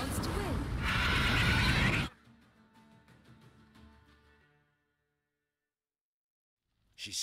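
A horse in The Witcher 3: Wild Hunt gives a loud, brief whinny over background noise for about two seconds, followed by faint fading sounds and then near silence.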